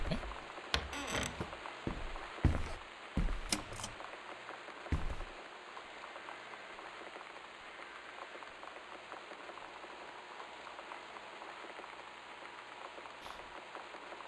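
Torrential rain and wind in the game Gone Home: a steady broadband wash of rain runs the whole time, with a few louder knocks and thumps early on and a calmer, even downpour afterward.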